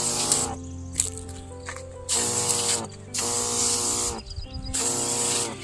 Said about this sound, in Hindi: देखिए कुछ इस प्रकार से हम दवा का स्प्रे कर रहे हैं।